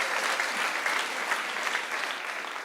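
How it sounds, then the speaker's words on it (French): A church congregation applauds in a dense, even wash of clapping that holds steady for the whole stretch, with no voice standing out. "Applaudissez pour la parole"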